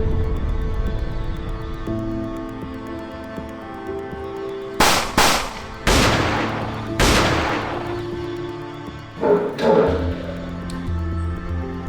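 Gunfire from an active shooter: a few loud, close bursts of shots with echoing decay, separated by pauses, over a steady tonal background and no speech.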